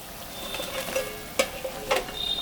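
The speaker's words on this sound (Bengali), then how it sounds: "এখন আমি মাছটা আর বেগুনটা দিয়ে দেব।" Tangra fish and fried eggplant slid into a simmering fish curry, a soft bubbling hiss broken by a few sharp splashes and clatters near the pot.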